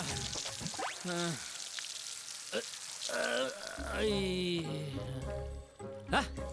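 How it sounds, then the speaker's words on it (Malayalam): Rain falling in a comedy film scene, a steady hiss like sizzling running under raised voices and other sounds from the scene. "അയ്യോ, മഴ മഴ"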